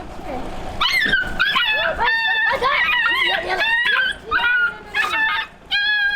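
A street puppy in Romania, stuck under a car, whimpers and yelps in high, wavering cries, with short barks mixed in, close and loud against a busy noisy background.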